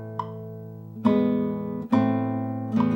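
A classical guitar plays rolled chords from Milan's Pavane, with a soft single note followed by three rolled chords, each ringing and decaying, played close with no talking.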